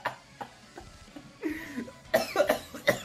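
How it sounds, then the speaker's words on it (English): Several short, somewhat muffled coughs come from a video playing back during a mobile game session, spaced out over a few seconds. "They're coughing."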